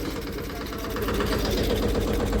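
A tractor engine chugs steadily on a farm field, a loud, close, low rumble with a rapid rhythmic knock that grows slightly louder over a couple of seconds.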